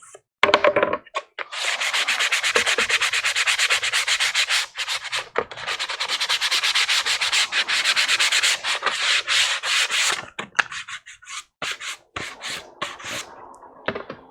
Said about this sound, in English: I am sitting here sanding before we glue.